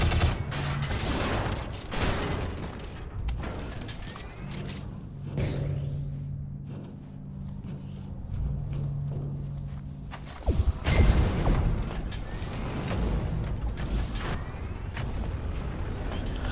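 Shadow Complex gameplay: a ceiling vent is shot open and the character hookshots up, heard as bursts of gunfire, mechanical clanks and whooshes over a steady hum of game music.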